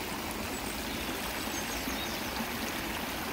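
Fountain water flowing in a London park, a steady, soft, even rush of splashing water with no other distinct sounds.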